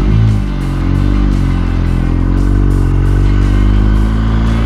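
Bumper-to-bumper traffic on the S-Lex expressway during a motorcycle ride, heard as a loud, steady low engine drone with a rumbling idle and faint clatter, close and continuous.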